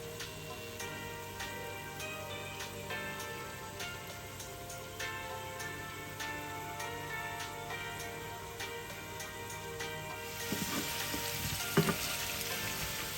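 Potatoes cook in a pan on the stove, giving a steady close sizzle and crackle of frying throughout, with a louder burst of spattering near the end as the lid comes off, and no voices.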